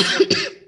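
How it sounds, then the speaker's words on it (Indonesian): A single close, breathy cough with a brief double burst that trails off quickly. "Maaf, saya batuk."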